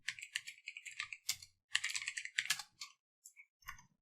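Someone types on a computer keyboard at close range, with short bursts of crisp key clicks separated by brief pauses. A soft thump is heard near the end.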